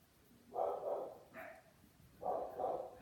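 Dogs bark indoors in the background, a few muffled barks in two short bursts, fairly distant and with no talk over them.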